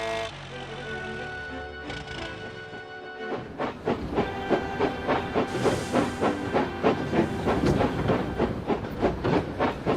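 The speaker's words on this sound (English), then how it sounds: "Really shouldn't let off steam in this station, Edward." A train whistle-like tone gives way to a model steam locomotive chuffing in a steady rhythm with hissing steam as it lets off steam in a station, close and loud.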